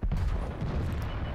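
A heavy tank cannon blast from World of Tanks, one loud booming shot with a rumbling tail that fills the short moment.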